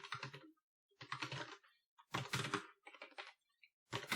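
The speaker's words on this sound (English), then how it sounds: "actually, we'll just type it down here." Fingers type on a computer keyboard in quiet, close bursts of rapid key clicks, separated by short silent pauses.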